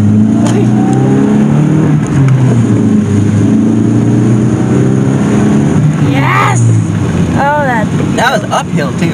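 A car with a 1.8 liter four-cylinder engine revs hard and accelerates uphill, loud droning engine tones with shifting pitch, wheels briefly spinning, wind buffeting the microphone and excited voices talking over it.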